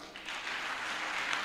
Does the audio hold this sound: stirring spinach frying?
no